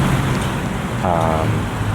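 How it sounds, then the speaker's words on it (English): Rough, constant wind buffeting the microphone outdoors, a broad roaring rush that stays strong the whole time. "It's so windy."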